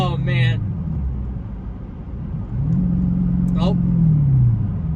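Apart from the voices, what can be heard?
Dodge Challenger SRT8 engine revving while driving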